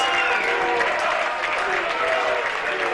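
A crowd at a Watertown high school baseball state championship game roars and claps in a sustained, dense wash, loud and unbroken throughout.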